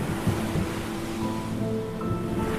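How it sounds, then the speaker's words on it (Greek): Ocean waves washing onto a sandy beach, a continuous broadband surf wash with no voices. "Κρυστάλλινα μπλε κύματα να σκορπίζονται στην αμμουδιά."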